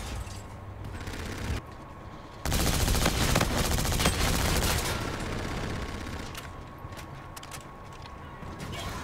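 Rapid automatic fire from an Osa rifle in the shooter game Call of Duty: Infinite Warfare, dense continuous bursts that swell loud midway and then thin out, with faint game sounds around.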